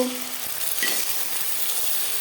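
Beaten egg mixed with onion dropped into hot refined oil, bursting into a loud, steady, close sizzle that holds without break after a brief initial hiss.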